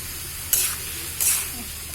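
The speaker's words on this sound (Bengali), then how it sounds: "এখন এইটা আমি কিছুক্ষণ ভেজে নেব" Turmeric and coriander powder fry in a pan with a soft, steady sizzle, broken by two brief, bright scraping stirs. No one speaks.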